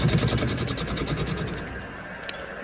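An X3 mini milling machine takes a 0.5 mm cut, giving a steady, fairly quiet motor whine with a fast rhythmic chatter that softens toward the end.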